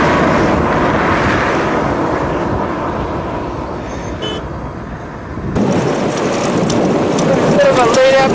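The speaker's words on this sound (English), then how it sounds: "Bit of a late afternoon dust storm going here." A late afternoon dust storm in the Sahara desert, with wind roaring steadily and buffeting close to the microphone. The loud, broad rush rises in a stronger gust near the end.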